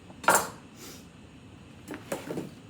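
A layer of sliced potatoes drops into a pot for a pork, cabbage and potato dinner. One sharp clatter comes first, then a softer one, and a few scattered knocks follow. The sounds are close by and there is no talk.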